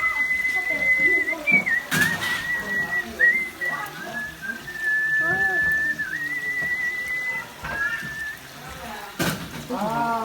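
A person whistles a long, wavering, sustained tune in a home kitchen while others talk and clatter dishes nearby.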